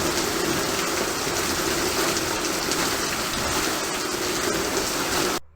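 Heavy rain pours down steadily in a dense, even hiss of drops beating on surfaces outdoors, loud and unbroken, then cuts off abruptly at the end.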